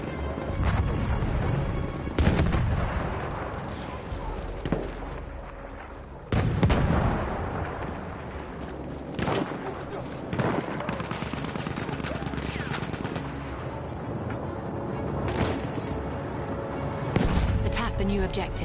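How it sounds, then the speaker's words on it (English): An enemy artillery barrage in Battlefield 1 batters a sandy battlefield with repeated heavy blasts and gunfire cracks, loud and dense throughout, with sharp bursts landing every few seconds over constant battle rumble. "Wait for the enemy artillery barrage to stop firing."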